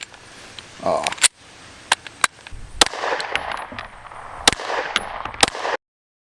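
A PSA Dagger pistol fires about half a dozen sharp, loud shots at uneven intervals outdoors, each crack ending abruptly.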